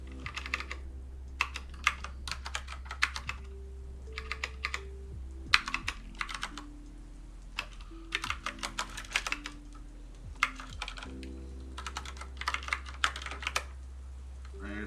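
Someone types on a Moonlander Mark 1 split keyboard in bursts of rapid key clatter separated by short pauses, close and crisp over a steady low hum.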